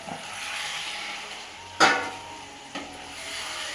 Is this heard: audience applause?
no